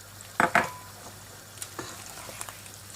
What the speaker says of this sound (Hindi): और अब यहीं पे ये आलू भी साथ ही डालूंगी, ये भी साथ में गाल जाए।